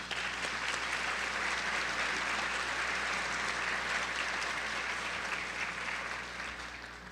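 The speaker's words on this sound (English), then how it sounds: "let's give him a round of applause as well" A keynote audience gives a long round of applause, dense and even from many hands, sustained loudly before tapering off slightly at the end, with no speech over it.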